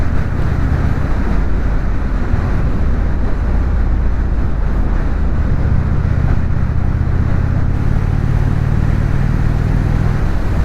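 Steady loud engine and exhaust drone from an Indian Springfield motorcycle while riding, mixed with constant wind rush, unbroken throughout with no speech.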